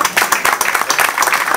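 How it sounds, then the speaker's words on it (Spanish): Crowd applause for the riders at an 18th-anniversary festivity in González, Tamaulipas: a loud, dense burst of many hands clapping close by, steady throughout. "Un aplauso para ellos también."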